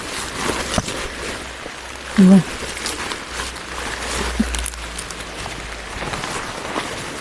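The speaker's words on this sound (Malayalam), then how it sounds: "നല്ല മഴ പെയ്യുന്നുണ്ട്" Heavy rain falls steadily outdoors on a cassava planting plot, a continuous broadband hiss with faint patter underneath and one brief thump, with no voices.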